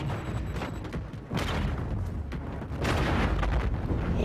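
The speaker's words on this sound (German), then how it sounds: "Boah, was für eine Explosion, ey." Loud, dense game explosions and artillery-like blasts from the shooter Call of Duty: Infinite Warfare roll on continuously, with heavy booming bursts swelling at intervals and no talk over them.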